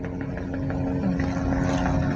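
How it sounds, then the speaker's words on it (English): Helicopters flying over an Old Town area during a police response, a steady loud rotor and engine drone filling the background without pause, with no talk over it. "You can hear the choppers."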